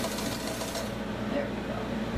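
Sewing machine stitching in reverse on doll pajama bottoms, a steady mid-pitched motor whir with fast needle chatter, fairly close and running continuously for a couple of seconds.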